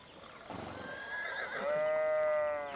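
A horse in Pentiment lets out a loud, drawn-out neigh that rises and then trembles, preceded by a faint shuffle and soft hoof sounds.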